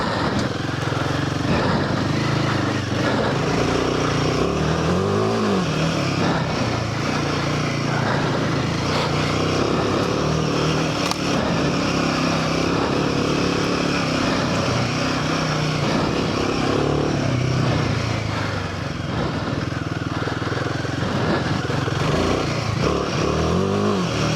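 A Royal Enfield Himalayan 450 motorcycle rides off-road through Pureora forest, its engine droning steadily with rising and falling revs, close and loud, mixed with wind and rumble from the terrain for the whole stretch.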